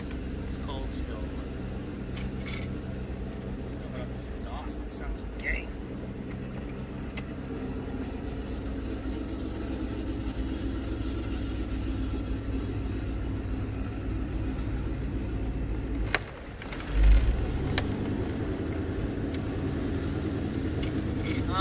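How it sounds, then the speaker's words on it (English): A cold turbocharged IROC car engine idles slightly high with a steady low rumble for most of the stretch, briefly dipping before resuming; people talk over it. "Right now it's idling a little high because it's cold still."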